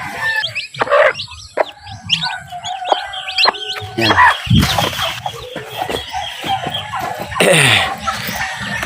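Hens and chicks at a small farm cluck and peep busily, with sharp chirps and fowl calls close by. Someone speaks briefly among them.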